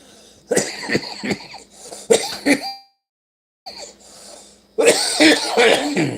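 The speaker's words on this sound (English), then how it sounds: "Man, when I cough, that hernia pops." Several harsh, close coughs in quick bursts, with a short silent pause before another loud round of coughing.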